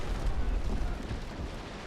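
Heavy naval cannon fire from a broadside exchange in the Naval Action sea battle game between sailing frigates, a dense rumbling roar of overlapping booms sustained throughout without distinct gaps.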